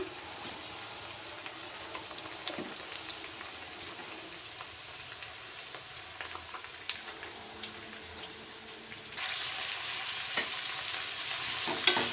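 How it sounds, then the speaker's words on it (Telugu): Pieces of pink, fleshy flat beans (broad beans) frying in a pan, stirred with a spoon for a steady scraping sizzle that grows louder and brighter partway through, with no talking. "ఇలా ముక్కల్ని కలుపుకోవాలి"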